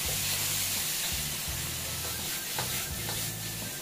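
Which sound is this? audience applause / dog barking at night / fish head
fish head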